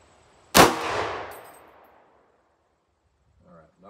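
A single sharp, loud gunshot from an 8.6 Blackout rifle fired into a ballistic gel block, followed by a long ringing decay that fades over about a second and a half, with a faint voice afterward.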